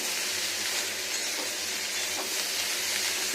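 Brinjal and potato pieces frying in oil in a pan for a vegetarian posto dish, a steady dense hiss and crackle of sizzling throughout, close and even with no talk.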